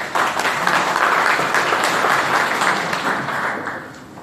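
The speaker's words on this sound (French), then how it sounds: "je vous demande de vous applaudir très fort." A crowd applauds steadily, a dense wash of clapping that holds for a few seconds and then begins to fade.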